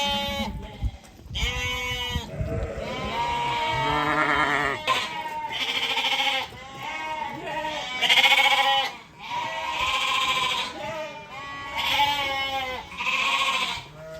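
Several sheep bleat loudly and repeatedly in a yard, overlapping calls close by, one after another with brief pauses between.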